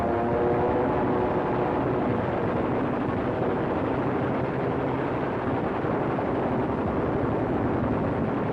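Aircraft strafing the German army in World War II footage, a dense, steady roar of engines and rumbling fire that holds loud and unbroken throughout, with no speech.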